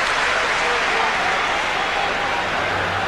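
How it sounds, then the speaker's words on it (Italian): Stadium crowd applauds during a 1997 World Cup qualifier football match between England and Italy, a broad wash of distant clapping and crowd noise sustained throughout. "Walker, applausi per lui"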